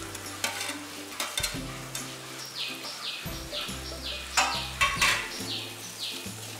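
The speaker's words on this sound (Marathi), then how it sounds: "हे आता सगळं छान परतून घ्यायचंय" Ginger-garlic green masala paste sautés in a pan with a steady sizzle and repeated scraping stirs of a spatula, bright clinks punctuating the crackle at close range.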